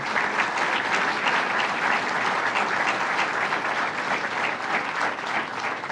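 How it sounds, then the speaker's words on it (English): Sustained applause from an audience at a New York government budget address fills the room, dense steady clapping at even loudness for the whole stretch with no speech over it. "let's give them another round of applause for what they do"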